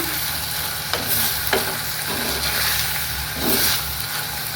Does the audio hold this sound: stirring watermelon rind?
yes